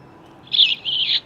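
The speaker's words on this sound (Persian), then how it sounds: "به به چه هوایی، صدای بلبل هم میاد." Nightingale song sound effect played from the electronic banking device of a Monopoly Ultimate Banking board game, two bright warbling chirp phrases, clear and close, heard alone.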